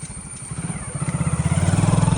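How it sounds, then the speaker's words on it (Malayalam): A motorcycle engine rumbles and pulses steadily, growing louder as it approaches across a suspension bridge on a forest ride toward the Karnataka border. "ഞങ്ങൾക്ക് ഒരു ബൈക്ക് വരുന്നുണ്ട്"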